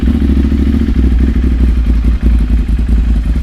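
A motorcycle with an aftermarket throttle and custom switch housing revs hard and close, its engine roaring loudly in repeated surges with mechanical clatter, no voices over it.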